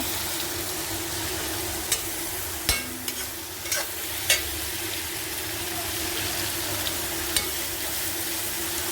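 Hot tempering oil sizzles steadily in a pan while besan bhurji is being made, a continuous close hiss broken by a few sharp clicks and spatters, with no talking.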